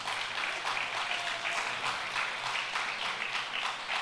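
A church congregation at Sunday school gives a sustained round of applause, dense and even with slight rhythmic swells, heard alone without speech.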